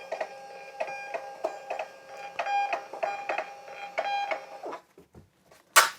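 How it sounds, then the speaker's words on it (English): A small label printer prints shipping labels, a rhythmic run of whirring mechanical pulses roughly every half second, close and clear, then stops with a short final rustle and click. "they'll come out of my little printer here"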